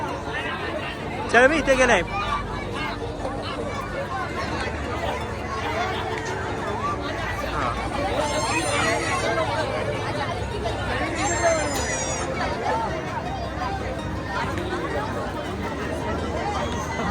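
Dense crowd babble at the Golfa Devi temple fair in Worli, a steady wash of many overlapping voices with occasional brief whistles and toy chirps, and a nearby person talking over it.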